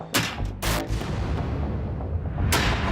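An armor-piercing bullet fired at a 22-millimeter armor plate: a few sharp, loud blasts, one near the start, a longer burst just after half a second, and another toward the end.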